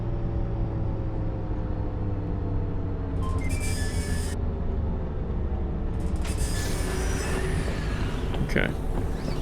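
A train rolls past in the train survival crafting game Everrai, a steady low rumble of wheels and cars with brief metallic squeals partway through, continuous and fairly loud.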